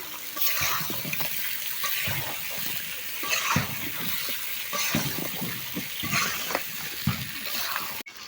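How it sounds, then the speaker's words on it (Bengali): Potatoes being stirred into fried spice paste in a pan, a close run of repeated scraping and shuffling strokes over a soft sizzle, alone without talk. "এই যে মশলা কষানো হয়ে গেছে, এখন আলু ঢেলে দেওয়া হলো, এখন নাড়তে হবে।"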